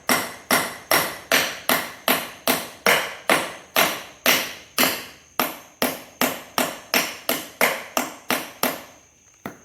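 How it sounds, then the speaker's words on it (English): Steady metallic ball peen hammer taps on a wedged bearing, about two per second, each with a bright ringing tail, continuing in an even rhythm without talk. "if it gets wedged, you can just take your ball peen hammer a little bit"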